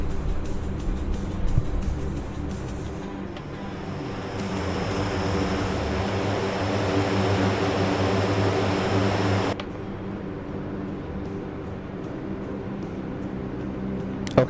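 Steady droning whine of an airplane engine taxiing along a runway in a video game, a constant broadband hum that swells slightly midway, then drops to a quieter idle near the end.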